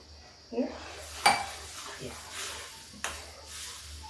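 Milk is poured into roasted sabudana in a pan and stirred, bringing soft scrapes and a few sharp clinks of a spoon against the metal, all fairly quiet with a faint sizzle underneath.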